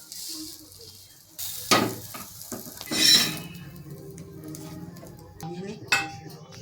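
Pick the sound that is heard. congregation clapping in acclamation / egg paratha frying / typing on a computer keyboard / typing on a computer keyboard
egg paratha frying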